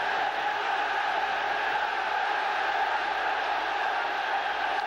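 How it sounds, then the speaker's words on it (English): Football stadium crowd at a Manchester United versus Fenerbahçe match roaring after a shot just wide of the post, a dense sustained distant roar with no commentary over it. "just listen to how the crowd have responded to that"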